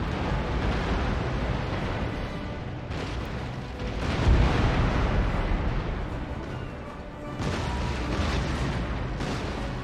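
Naval cannon fire from two fourth-rate warships engaging a brig in Empire: Total War: deep, rumbling booms roll over a continuous roar of battle, with a heavier blast in the middle and another swell near the end.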